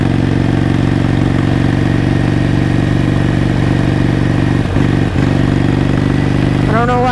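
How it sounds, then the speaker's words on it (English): A motorcycle idles steadily in cold weather, its low engine hum occasionally stumbling with a couple of brief sputters before a rising whine near the end. "I don't know why it's sputtering like that. It's like it's about to run out of gas."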